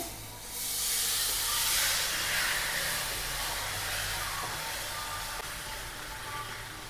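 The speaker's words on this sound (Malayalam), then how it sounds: "അപ്പൊ ഇനി നമ്മൾ അരിപ്പയിലോട്ട് നമുക്ക് പതിയെ കുറച്ച് ശർക്കരയായിട്ട് നമുക്ക് ഒഴിക്കാമേ" Jaggery syrup poured through a strainer into a hot pan of browned semolina for halwa, erupting in a loud steamy hiss that swells quickly then settles into a steady, slowly fading sizzle, with no talking.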